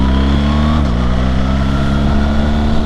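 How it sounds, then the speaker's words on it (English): A 2024 BMW R 1300 GS motorcycle engine with aftermarket intake stacks runs on a dyno, a loud, close, steady high-revving drone with a brief dip in pitch early on before holding strong, with no talking. "And the sound out of these stacks, it just makes you want to twist the throttle more."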